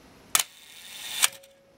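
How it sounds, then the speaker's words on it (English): A Canon FTb film SLR camera fires its shutter at a one-second speed: a sharp mechanical click opens it, then a second click closes it about a second later, close and clear in a quiet room. "notice these blades closing down quickly during the shutter operation"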